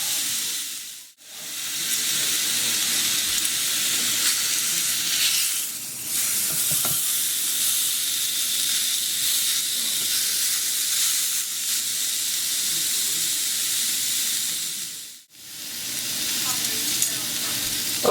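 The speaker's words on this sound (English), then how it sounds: "I'm going to brown them for 2 to 3 minutes on each side." Pork chops browning in a hot pan make a loud, continuous sizzle that holds for a long stretch. It drops out briefly twice, as though the pan is shifted or the chops are moved.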